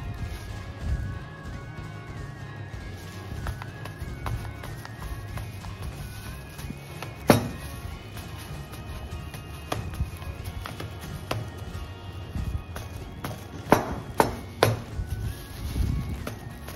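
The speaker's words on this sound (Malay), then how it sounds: "Kalau malas macam saya, tumbuk je dalam besin macam ni" Mashed sweet potato pounded by hand in a basin for a sweet kuih, giving scattered dull thuds and knocks at an irregular pace. Most strikes are soft, with a few sharper knocks near the end, over a steady background hum.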